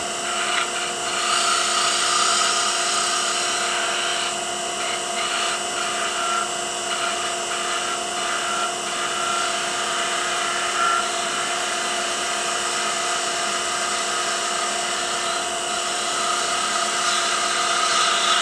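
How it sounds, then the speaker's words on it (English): Wood lathe spinning steadily while a wine stopper is turned, a continuous high whirring drone with a faint tool scraping on the workpiece, close and unbroken throughout. "Should probably turn the lathe speed up a little bit."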